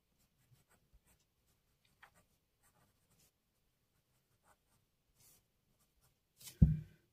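Soft, sparse scratches of writing math by hand during an algebra lesson, faint strokes spread out in near silence, ending with a louder handling thump.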